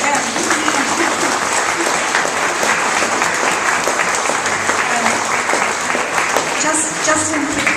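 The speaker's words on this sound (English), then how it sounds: "So let's give a clap for them." Loud, continuous applause from an audience at a foundation speeches event, a thick, even roar of many hands clapping with faint crowd murmur underneath.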